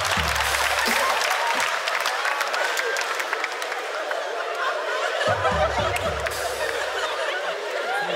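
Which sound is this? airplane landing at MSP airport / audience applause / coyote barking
audience applause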